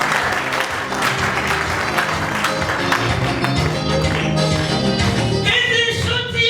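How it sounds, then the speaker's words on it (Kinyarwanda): A church congregation claps loudly and continuously in praise of God, a dense close wash of many hands with no pauses. "komera Imana amashyi"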